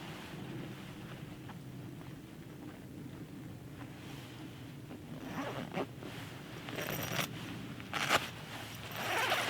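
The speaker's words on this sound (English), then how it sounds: "the zip comes down easily" A Snugpak Special Forces sleeping bag zipper is drawn open outdoors. Soft rasping zip strokes grow louder toward the end over steady wind and rustle.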